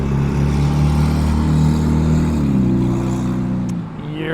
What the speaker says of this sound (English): your car is very loud.